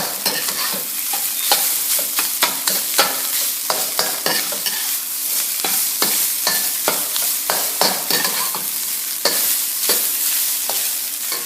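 Fried rice with vegetables stir-fried in a pan: loud, continuous sizzling with rapid, irregular clacks of a utensil tossing and chopping through the rice, close and busy throughout.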